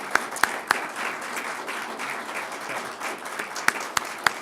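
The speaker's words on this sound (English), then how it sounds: "merit a round of applause" A room of attendees at a solar power purchase agreement signing breaks into steady applause, a dense wash of clapping with a few louder nearby claps standing out, moderately close and without speech.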